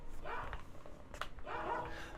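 An excited dog runs up to greet its owner, letting out a few eager yips and whines in short bursts over constant background noise.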